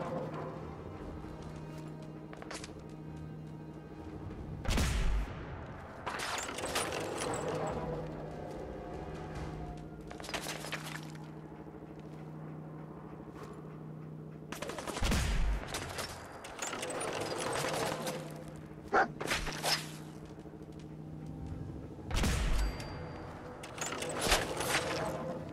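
Gunfire rings out in Fallout 4 in scattered bursts of sharp shots separated by quieter stretches of low ambient hum, the volleys loud and close over a steady background drone.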